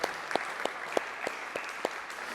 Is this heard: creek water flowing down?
no